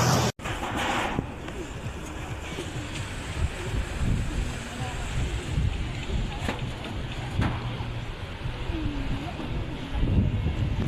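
Surf and wind at a crowded beach, a steady wash of waves with gusty microphone wind noise and a loud knock near the start, without clear speech.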